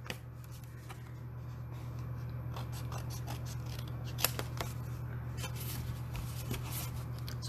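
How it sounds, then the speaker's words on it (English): Scissors trim cardstock for a handmade penguin card, making a quiet run of crisp snips and paper scrapes close to the microphone over a low steady hum. "I'm just going to trim this down so that it"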